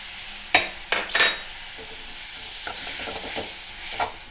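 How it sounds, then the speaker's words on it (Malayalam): Salt water and cooked pigeon pea dal go into spinach in a pan, giving sharp splashes and sizzles, then stirring scrapes and soft hissing. The sounds are close and come in short bursts. "കുറച്ച് ഉപ്പുനീര് അങ്ങോട്ട് ഒഴിച്ചു കൊടുത്ത് വേവിച്ച് വെച്ച തുമരപ്പരിപ്പ് ഇടുവാണ്."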